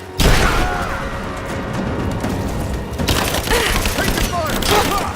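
Gunfire in the video game Rise of the Tomb Raider, dense and continuous, with bursts and booms running throughout and a second loud flurry near the end, heard under shouted combat voices.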